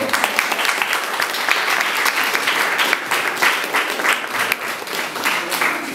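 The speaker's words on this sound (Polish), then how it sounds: "Wielkie brawa dla niego." A crowd applauds continuously at an outdoor Polish Independence Day centenary ceremony, a dense wash of clapping that holds steady throughout at close range, with no clear speech.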